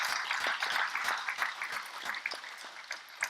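An audience at a government funding announcement applauds with a moderate, dense patter of clapping that slowly thins toward the end.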